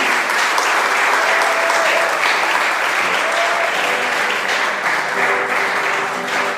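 Sustained, dense applause from an audience at a Bible week church gathering, steady and loud throughout with faint tonal sounds above it.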